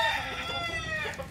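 A gamecock rooster gives a short, loud crow with clucking tones, close by and heard alone.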